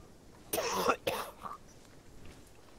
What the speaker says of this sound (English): that sounded like a wet cough